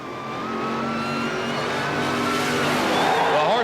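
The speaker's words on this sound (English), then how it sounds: "The next pair of cars, the world champion from Calgary, Alberta, Canada, Brent Bramley in the dragster, Simon Menzies in the Corvette funny car" At a 1977 NHRA drag race, a dragster and a Corvette funny car roar off together, their engines building in a loud rising howl that swells and climbs in pitch as they pull away.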